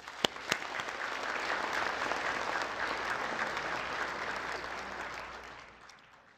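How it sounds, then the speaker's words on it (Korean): Applause from a large audience at a national prayer breakfast held early in the morning, opening with a couple of sharp individual claps before swelling into sustained clapping that tapers off at the end. "다시 한번 박수 치겠습니다"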